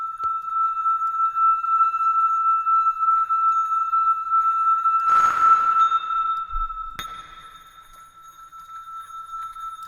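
A sustained pure tone processed with reverb in Ableton Live, a steady ringing note with a bright burst partway through and a lingering, diffuse tail that softens toward the end.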